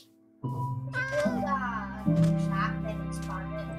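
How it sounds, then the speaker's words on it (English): A Minecraft cat meows several times in a row, bright and close, over a steady in-game background hum. "I've got so much fish that I could easily tame this cat."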